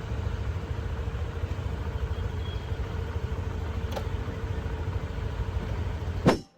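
A motorcycle taxi's engine runs steadily at close range throughout the ride, a continuous low drone with a sharp click midway and a brief loud rise and drop at the very end.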